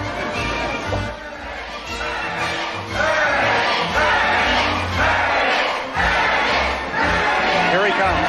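A loud, dense crowd at Splash Mountain, Disneyland, in 1989 roars and shouts continuously, rising and swelling in waves throughout, with voices mixed into the din.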